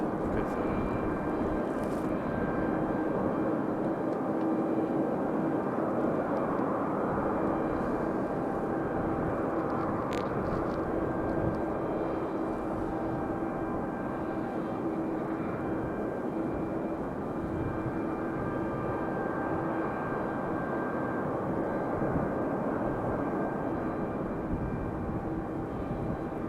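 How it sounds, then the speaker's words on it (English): A United Republic Airways jet taxis to the runway at Raleigh-Durham airport, its engines producing a steady, continuous roar that holds evenly for the whole stretch, with no talk over it. "And we're gonna have our United Republic Airways 3642 headed to Dulles up next. That one making its way out to the runway now."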